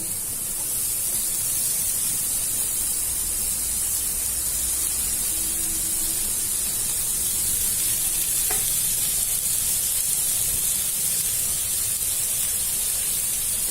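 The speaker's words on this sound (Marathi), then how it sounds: "कांदा थोडा लाल होईपर्यंत परतवायचा बटरचं प्रमाण तुम्ही कमी जास्त घेऊ शकता त्याच्यात आपण टमाटे टाकतो" Chopped onions and tomatoes sizzle in butter in a pan for masala pav, a constant dense hiss of frying that holds steady throughout, close and fairly loud, with a brief faint clink partway through and no voices.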